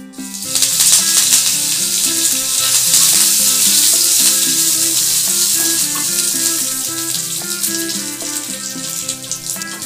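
Urad dal and curry leaves crackle and sizzle in hot oil for a sweet tomato ginger pickle, a loud, dense, continuous frying hiss with rapid popping spatters throughout, no voices.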